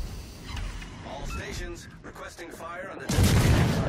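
Naval gunfire in World of Warships with a Plymouth cruiser: booming salvos and shell impacts against an island, a heavier blast near the end, under steady game ambience.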